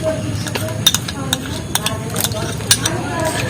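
A bleaching powder mixture for homemade phenyl is beaten by hand, giving quick irregular clicks and scraping strokes against the container, heard close and under a speaking voice.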